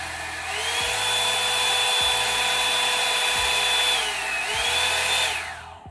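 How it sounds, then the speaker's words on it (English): A Revlon One Step hair dryer volumizer runs on its high setting, producing a loud, steady rush of air with a motor whine that dips briefly before it winds down. "And here is the high."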